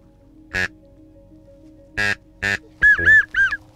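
Duck quacks ring out in loud, separate calls near hunting decoys, a few spread apart and then three quick ones in a row near the end.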